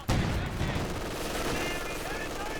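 Machine gun fire in Company of Heroes 2, an MG opening up with a sharp onset and continuing as a steady rapid rattle of shots, loud and sustained with a faint voice underneath.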